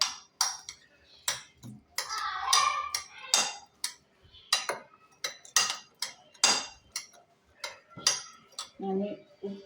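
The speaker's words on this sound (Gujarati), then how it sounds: "આ બધાને મિક્સ કરી દઈશું।" Corn bhel ingredients being stirred in a bowl give a run of clinking and scraping spoon taps in irregular bursts, close up, with brief speech near the end.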